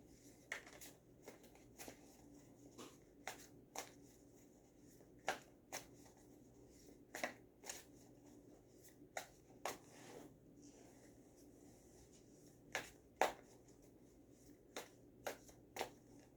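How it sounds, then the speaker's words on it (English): Cards are shuffled in soft, repeated riffles with sharp snaps at irregular intervals, quiet and close, with no talking. "let's shuffle."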